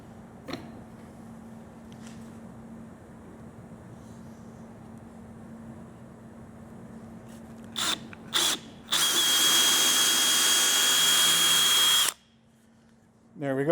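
Short bursts of a power drill starting and stopping, then a loud sustained whine of about three seconds as it bores a hole in a workpiece held in a vise, close up with a low background hum.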